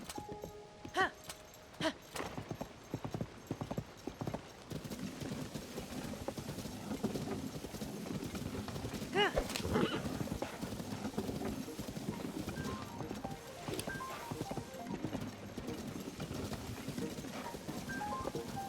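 A horse in The Legend of Zelda: Tears of the Kingdom clip-clops across Gerudo Desert, its hoofbeats landing in quick uneven bursts at moderate distance, with a few sharp snorts or whinny-like cries mixed in and faint talk underneath.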